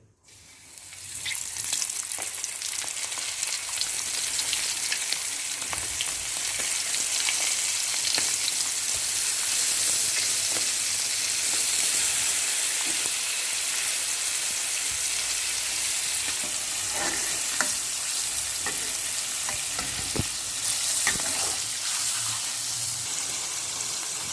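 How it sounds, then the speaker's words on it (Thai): Prawns deep-frying in hot oil for stir-fried tamarind-sauce prawns, a steady loud crackling sizzle with bursts of popping that runs the whole time, close and unbroken, with no voices. "พอน้ำมันร้อนนะครับ ใส่กุ้งลงไปทอดได้เลย"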